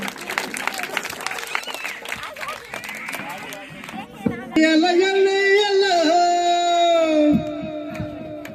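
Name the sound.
audience applauding children after Christmas skit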